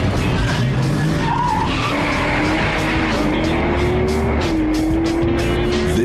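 Highly modified street cars launch down a quarter-mile drag strip: loud continuous engine roar with squealing, skidding tires and a rising engine whine as the cars accelerate close by.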